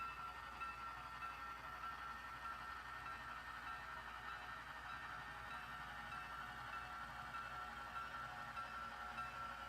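Soft, steady rumble of an HO scale model train of cement-covered hopper cars rolling slowly along track into a yard, quiet and continuous with a faint hiss.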